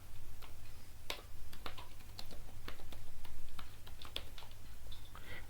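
Quiet, rapid typing on a computer keyboard, with irregular light clicks and taps spread over several seconds against a faint low hum, no voices.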